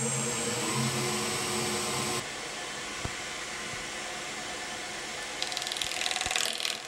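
A gouge cuts a wooden bowl on a wood lathe, giving a steady loud whirring scrape that shifts in tone partway through, with a few sharp ticks and a rougher chattering cut toward the end.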